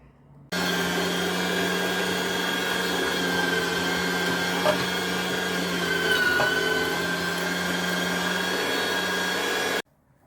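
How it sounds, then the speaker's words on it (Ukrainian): An electric meat grinder mincing meat with cabbage, onion and garlic, a loud, constant motor whine with a steady hum, running continuously from start to finish with slight strain in pitch midway. "Зараз це все я перекручу через м'ясорубку і буду жарити котлетки"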